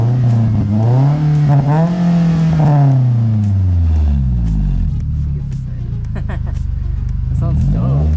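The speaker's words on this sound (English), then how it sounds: "Give it a few revs." A 2015 Scion tC fitted with a Megan Racing exhaust revving up close: deep engine rumble rises and falls through a couple of revs, then settles into a low idle burble, with voices talking over it.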